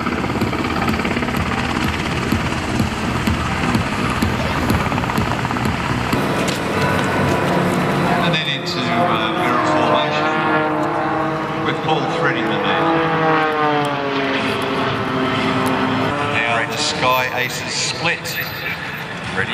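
A military maritime patrol aircraft flies a display at the Wings Over Illawarra air show and slows to land in a tight area. A loud, steady engine and rotor drone fills the whole stretch, and a commentator talks over it.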